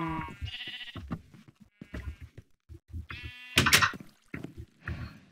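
Minecraft sheep give a few scattered bleats under steady German-speaking commentary, with one louder burst near the end standing out from the voice.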